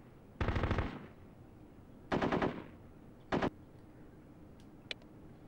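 Automatic gunfire from the video game Full Spectrum Warrior on PS2 comes in three short, sharp bursts separated by pauses, followed by a faint single crack, with no voices.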